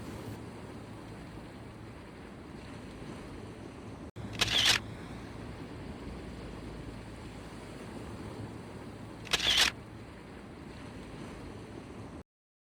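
A camera shutter fires twice during a 30-second long exposure triggered by the 2-second timer, two brief mechanical clicks about five seconds apart over steady outdoor surf and wind noise.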